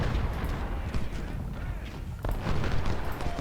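Dense rumble of artillery and rifle fire in the Ultimate General: Civil War video game, overlapping booms and cracks rolling on continuously, with a sharper report partway through, under a speaking voice.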